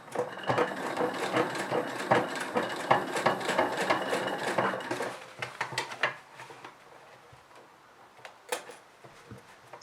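Sewing machine edge-stitching zipper tape close to a folded edge on jeans, a dense run of rapid mechanical stitching for about five seconds, then sparser clicks and taps of the machine and fabric handling.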